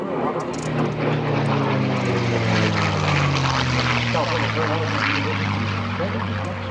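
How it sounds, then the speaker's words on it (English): A propeller airplane flown through aerobatic paces at EAA AirVenture airshow, a steady droning engine with shifting pitch heard from a distance, with announcer talk over it. "She's going to put that gorgeous airplane through its paces right for you here today"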